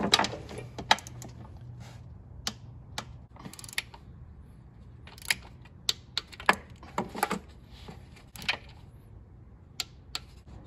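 A wrench clicks and ratchets in short, scattered bursts while intake manifold bolts are torqued down on a GM 5.3/6.2 engine, the sharp metallic ticks close and fairly quiet with pauses between.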